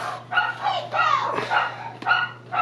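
A pet dog barks and yelps repeatedly indoors, close and loud, in a quick uneven series of sharp calls with a faint steady hum behind.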